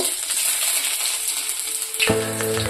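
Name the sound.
whole cumin, chopped garlic and ginger frying in oil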